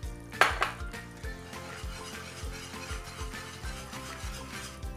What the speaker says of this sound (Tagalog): Stir lang ng stir.